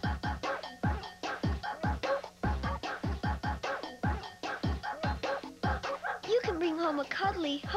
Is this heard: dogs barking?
yes